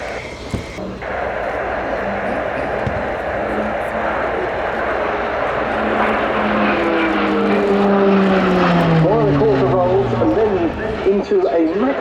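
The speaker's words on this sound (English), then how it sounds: "Watch now as the PC-9M regains the display line along the main runway." A Pilatus PC-9M turboprop trainer of the Slovenian Armed Forces flies an air-show display at RIAT 2025, its propeller drone loud and sustained, swelling and shifting in pitch as it passes along the runway, with a commentator talking over it.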